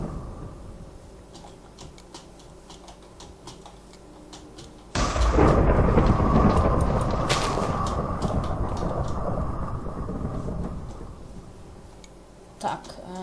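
Video game thunder: quiet ambience with faint ticks, then a sudden loud crack that rolls into a long, heavy rumble and slowly fades.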